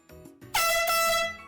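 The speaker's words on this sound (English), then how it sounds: "I got an air horn and it's loud as a motherfucker." A loud, sustained air horn blast sounds alone, cutting in abruptly after a couple of faint short bursts and holding a harmonic-rich tone for about a second.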